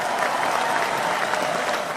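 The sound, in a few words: audience applause welcoming a guest on a show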